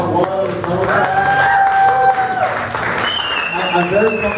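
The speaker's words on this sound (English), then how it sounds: "Round of applause for part 1." Applause and some cheering from a live audience at a Q&A on a band's tour, sounding as a brief burst that is mixed with voices and a few tonal sounds.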